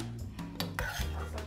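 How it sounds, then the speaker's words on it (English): A spoon stirring cavatelli pasta with greens and anchovies in a pot, giving a few close scraping and clinking strokes against the metal. "She gives everything another good stir and it's ready."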